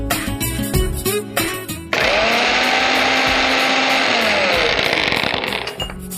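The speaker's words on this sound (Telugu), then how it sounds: "సో నువ్వులు చల్లారిపోయాయి, సో పొడిలా కొట్టేసుకోవాలి దీన్ని" A kitchen mixer grinding cooled sesame seeds into powder starts abruptly after some clattering, then runs as a loud, steady high whine with a sweeping motor tone before cutting off.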